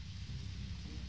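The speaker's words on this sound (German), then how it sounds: "Aber Regen." Steady rain falls on a bright moonlit night in the horror game Deadly Premonition. The hiss is soft and continuous, with low rumbling underneath and no voices.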